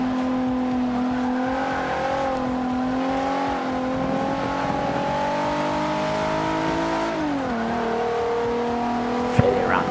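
An Infiniti Q50 in Forza Motorsport 5 drives through Eau Rouge, its engine a steady, loud droning whine that rises slightly in pitch, then drops as it shifts, with a brief sharp tick near the end.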